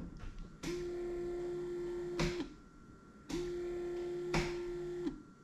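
A Can-Am Maverick X3 windshield wiper motor runs through two cycles, each a steady electric whine lasting about two seconds and bracketed by sharp clunks as the wiper starts and stops, heard close over low background hum.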